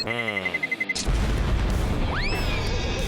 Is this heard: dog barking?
no